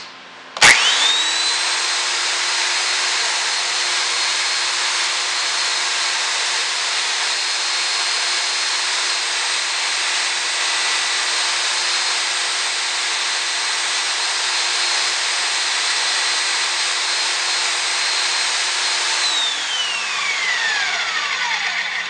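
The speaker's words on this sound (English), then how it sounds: "So I'm going to go back to the sander." A power sander runs steadily for about twenty seconds as an axe head is shaped on it: a loud, continuous motor whine with broadband grinding, starting abruptly and winding down at the end, with no talk.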